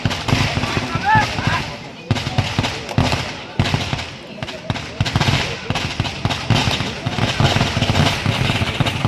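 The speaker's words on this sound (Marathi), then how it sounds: "फटाक्यांची आतिषबाजी देखील पाहायला मिळते" Sharp, crackling firework bangs burst repeatedly amid a noisy, dense crowd background at a kabaddi match, going off in quick succession nearby.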